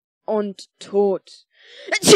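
A single sharp sneeze bursts out at the very end, close and loud, after a few short spoken words.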